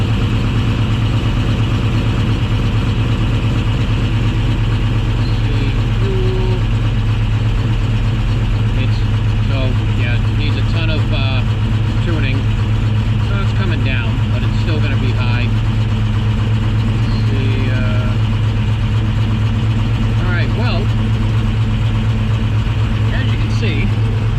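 A 1968 Camaro Z28 V8 with Sniper EFI running at a steady idle, a loud, constant low rumble close by, with a person talking over it partway through.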